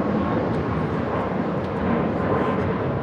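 A private executive jet taxis at Los Angeles International Airport, a loud steady jet engine roar filling the air with broadband rumble, heard from nearby.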